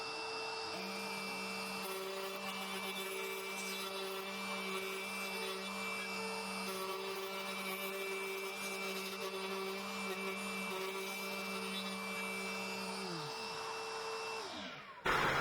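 A woodworking router runs steadily for about fourteen seconds, its bearing guided around a tenon template on a Yin & Yang table build, a loud continuous whine with a sustained tone that cuts out near the end.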